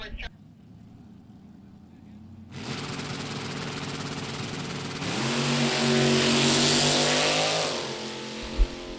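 A drag race car with an LS2 402 cubic inch engine at Byron Dragway, its loud engine roaring up from idle to a sustained full-throttle run, with an announcer talking over it.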